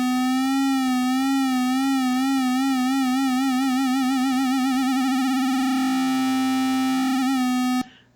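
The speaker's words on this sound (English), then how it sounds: "switch this LFO to pitch so that you can see what will happen once I start give it some depth" Analog synthesizer tone with an LFO wobbling its pitch, a steady buzzy note warbling slowly at first, then the vibrato speeds up and deepens into a wide swooping sweep before cutting off abruptly.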